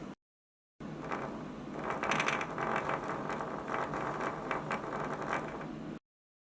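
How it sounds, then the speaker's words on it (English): An old game controller rumble motor runs on batteries, giving a steady buzzing whir with faint rattly flutter. It runs alone for about five seconds between short silences at the start and end. "I find this old Rumble motor. I wonder if I can run it on batteries."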